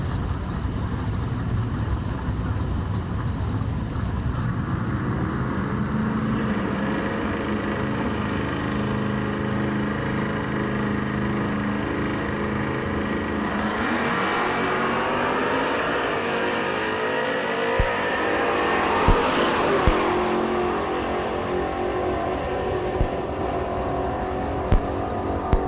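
A 1984 Oldsmobile Cutlass drag car at a sportsman drag racing event revs loudly and accelerates hard down the strip, its engine note climbing steadily toward a sharp peak before dropping off, with no talk over it.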